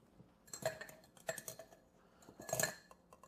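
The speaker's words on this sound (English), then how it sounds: "pour it in our glass of ice" Ice clinks and rattles in a glass as a Dawa cocktail is strained and poured over it, giving a few sharp, quiet bursts of chinking up close with brief pauses between them.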